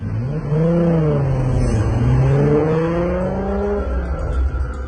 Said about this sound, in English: So Dom's Charger and Brian's Supra go head-to-head.